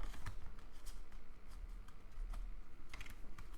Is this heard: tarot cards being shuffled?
yes